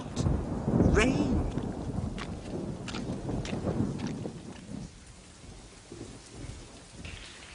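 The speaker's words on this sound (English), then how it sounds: "Rain." Rain falling with rumbles of thunder, a heavier burst early then easing to a steady patter, moderately faint, with voices speaking over it.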